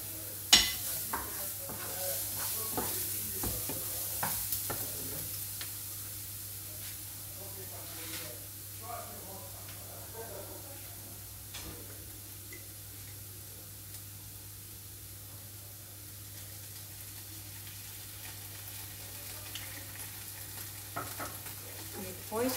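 Shrimps with garlic sizzle and hiss steadily in a hot pan, with occasional stirring scrapes and clinks over a constant low hum, and faint voices in the background.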